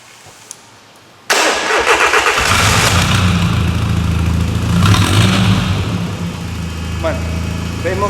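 Car engine cranking over and catching after a quiet moment, then settling into a steady, close idle with a faint rise in revs.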